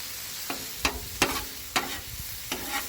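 A spatula scrapes and stirs 80/20 ground beef browning on a Blackstone griddle, five distinct scraping strokes spaced about half a second apart over a soft, steady sizzle, close and clear.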